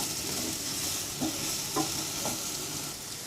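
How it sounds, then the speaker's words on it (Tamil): Apple pieces sautéing in butter make a faint, even sizzle, with a few soft scraping stirs of a spoon across the pan and no voices. "கொஞ்சம் நேரம் அப்படியே வதக்கிட்டே இருக்கணும்"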